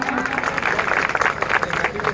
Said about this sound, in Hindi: सबके लिए एक बार जोरदार तालियां।